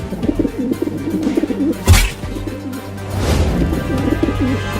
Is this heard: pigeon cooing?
yes